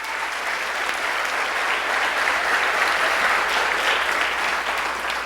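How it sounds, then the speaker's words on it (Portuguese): Church congregation applauding during a service, a dense, steady wash of clapping from many hands that holds at a loud level for the whole span, without clear voices rising above it. "aplauda o Senhor Jesus"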